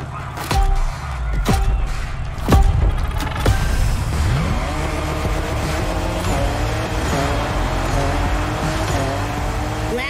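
A 2021 Toyota Super Drift Edition drifting in The Crew Motorfest racing game: sharp engine revs and gear bursts at first, then a sustained tire squeal with a roaring, shifting engine pitch as the car slides through a mountain pass run.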